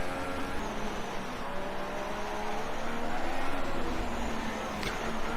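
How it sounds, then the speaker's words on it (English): Turbocharged Formula 1 car engine in F1 2016 racing, a steady high droning whine with shifting pitch tones, sustained throughout at close range over a constant noisy bed. "the turbo noises are so much better"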